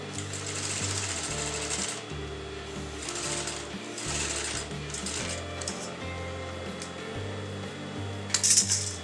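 A sewing machine runs steadily through blouse fabric along the seam margin, a continuous close mechanical whir with brief pauses and a small clatter near the end.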